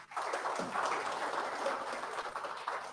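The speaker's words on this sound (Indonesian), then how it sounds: "tepuk tangan buat Anda semuanya." Seminar audience clapping together in a room, a continuous muffled patter of many hands held at an even level for a few seconds, with no voices over it.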